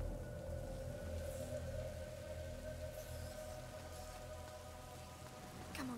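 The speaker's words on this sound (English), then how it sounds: "Lucas, Hugo, stay out of the rain" Steady rain falls in the video game A Plague Tale, a faint, even patter with a low hum underneath and no voices.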